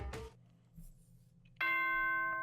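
A Danganronpa announcement chime plays: a brief bright ding is followed by a sustained ringing bell tone that holds steady and loud until the end.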